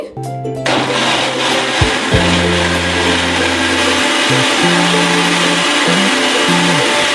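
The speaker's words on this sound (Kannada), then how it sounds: "ಈಗ ನಾನು ಮಿಕ್ಸಿ ಮಾಡ್ಕೊಳ್ತಾ ಇದ್ದೀನಿ" A kitchen mixie grinder whirs loudly in short bursts, its motor whine cutting off and restarting several times, close by with no talking.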